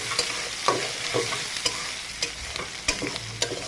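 Onions and chilies fry in a pan with a steady crackling sizzle, broken by sharp scraping clicks as a spatula stirs them, close up with no talking.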